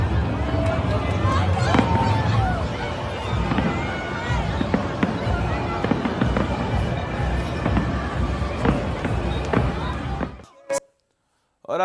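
Repeated sharp pops and bangs of New Year fireworks burst over a noisy crowd and rumbling background, continuous and fairly close, ending abruptly in near silence.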